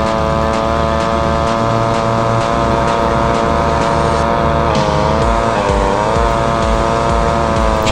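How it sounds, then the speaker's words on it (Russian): An upgraded moped engine drones loudly and continuously in the Real Moto motorcycle racing game, its steady buzzing tone shifting in pitch as it accelerates and eases off, with no talking. "посмотрим, на что способен сейчас наш мопед после прокачки"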